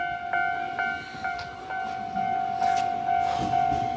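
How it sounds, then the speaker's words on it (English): A train pulls through a station on a rainy night in Japan, with a steady high-pitched tone over a rumbling wash of rail noise and a few sharp clanks and squeals that grow louder toward the end. "This is literally the proverbial last train"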